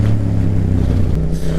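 Yamaha MT-07 motorcycle ridden along a road, its engine giving a steady, loud low drone with continuous wind and road rumble and no talking.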